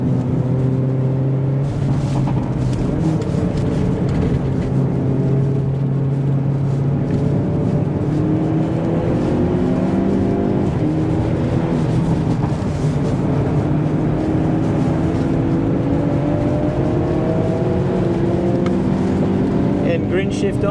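A Hyundai i30 N sedan on a race track, its engine droning loud and steady inside the cabin, with rising and falling pitch as the DCT gearbox shifts up a gear, while a driver talks over it.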